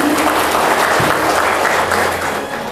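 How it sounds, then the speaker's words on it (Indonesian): A crowd at a Cirebon teacher-leader candidate programme event bursts into loud, dense applause that keeps going steadily and eases slightly toward the end. "Tepuk tangan"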